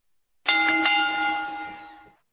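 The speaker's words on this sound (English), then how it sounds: "The ring bell, bro." A wrestling ring bell rings once up close, struck with a quick double-hit at the onset, then its bright metallic tone rings out and fades over about two seconds.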